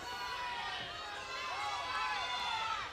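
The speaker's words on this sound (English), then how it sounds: "Big shouts from the crowd below." A crowd below a youth lead-climbing competition wall in Kirov, Russia shouts and cheers continuously, a dense wash of many voices rising and falling, with overlapping higher calls and whoops.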